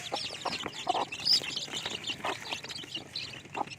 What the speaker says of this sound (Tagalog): meron tayong bagong sisiw yan oh. Yung ating inahinay nagsisiw na